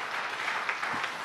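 A church congregation claps during a sermon, a brief, even wash of applause from many hands, moderately loud and steady throughout.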